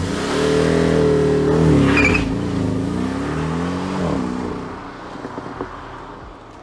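A Porsche Cayman with PDK gearbox and Sport Chrono boost accelerates hard, the engine note climbing loud and close, a quick shift blip, then easing off and fading with some faint rattles.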